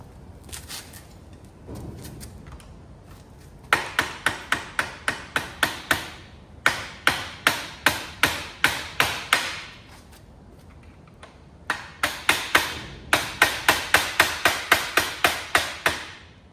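Rapid metal-on-metal hammer blows knocking out a Sur-Ron electric dirt bike swing arm with bad welds, delivered in loud close bursts of evenly spaced strikes separated by short pauses.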